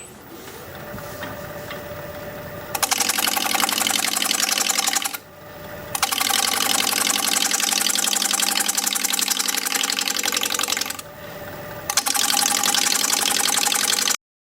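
A wood lathe turns a small bowl under a 5/8 inch bowl gouge, giving steady loud whirring with a gritty cutting hum that runs in two long passes, each stopping briefly before starting again.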